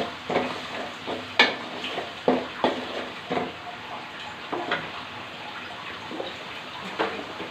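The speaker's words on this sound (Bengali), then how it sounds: "এখন মশলাটা আমি ভালো করে কষিয়ে নেব।" Spice paste with garlic paste, jackfruit seeds and dried fish frying in a pan, a soft continuous sizzle broken by repeated scraping stirs and clinks of the spoon, close and moderately loud.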